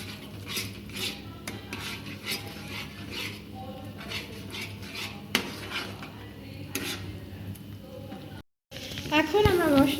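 A utensil stirs chilli spice paste in a pan for a pabda fish curry, scraping and clinking against the metal in a steady rhythm under a soft sizzle, with a voice talking over it.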